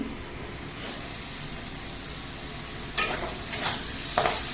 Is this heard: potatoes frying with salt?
yes